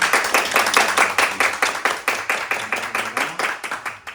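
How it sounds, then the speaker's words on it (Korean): A church congregation at a Christmas service claps in steady unison, a regular beat of about three claps per second, close and moderately loud, with no talk over it. "유수 찬양단과 우리 이 찬양 받으시 하나님 앞에 영광의 박수."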